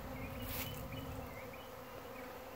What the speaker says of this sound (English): look at all these bees in the air